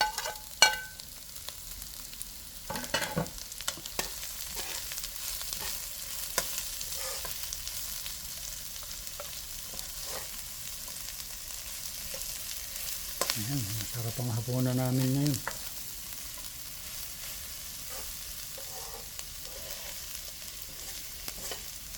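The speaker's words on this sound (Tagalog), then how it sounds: "Ayan na, inilagay na niya sibuyas." Onion sizzles in a pan with garlic and ginger, a steady close frying hiss with occasional stirring scrapes and clatter running throughout, plus a brief whining tone near the middle.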